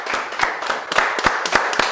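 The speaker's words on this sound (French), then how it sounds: "Applaudissez." Audience clapping at a live pageant-style game show event, a brisk run of hand claps at close range with sharp individual claps standing out over a steady patter, no voices.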